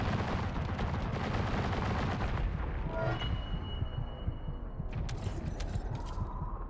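Rapid gunfire in The First Descendant shooting at crabs, a dense stream of loud shots that stops midway, followed by sharper metallic impacts and a ringing tone over steady background rumble.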